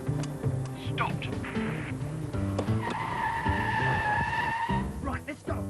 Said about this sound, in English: There's a car on the road. It's stopping.